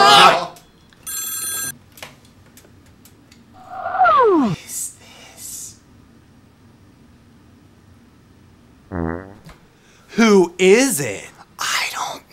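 Telephone ringing in bursts, a bright electronic bell trilling near the start and again later, with whispering and chattering voices around it and gaps of low hiss between.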